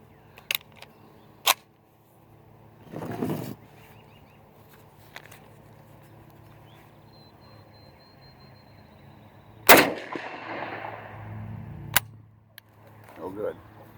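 M1 Tanker rifle firing Federal ammunition outdoors, with a few sharp, loud single shots spaced seconds apart, metallic action clacks and shuffling between them, and a voice briefly in the gaps.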